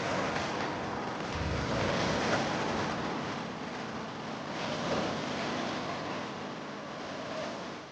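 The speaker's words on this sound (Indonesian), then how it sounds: "menikmati suasana hingga mendengarkan suara desir ombak" Broad, steady wash of sea surf rolling over an exposed sandbar near Pulau Muna in the Thousand Islands, with swells rising and easing around the middle, mixed with wind noise on the microphone and no voices.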